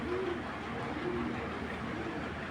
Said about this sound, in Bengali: অনেক দামি কবুতরগুলো